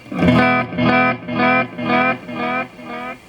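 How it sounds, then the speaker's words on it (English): Guitar notes played in a steady series of five sustained strums, each shimmering and wavering with a modulated delay that trails off between them. "Modulated delay is good fun."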